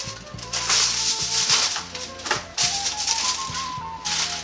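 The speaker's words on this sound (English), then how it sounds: "we're just going to use a little bit of tin foil here." Foil crinkles and rustles in short bursts, close by, over steady background music, while making paella.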